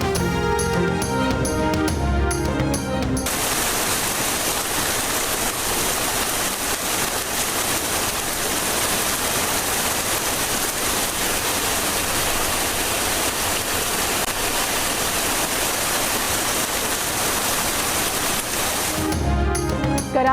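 Heavy monsoon rain pours down over flooded Karachi streets, a dense, loud, continuous roar of water that holds steady for about fifteen seconds, with music fading in and out at the edges.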